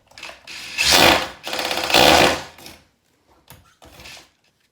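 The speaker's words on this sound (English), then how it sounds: "So then we can just drill a little bit more." A drill bores screw holes into a wall while a radiator is being moved, giving two loud, pulsing bursts of about a second each followed by a few shorter, quieter spurts with pauses between, close up and with no talking.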